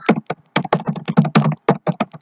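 Quick, crisp keystrokes on a computer keyboard, roughly fifteen distinct taps in an uneven rhythm, close and clear with no voices.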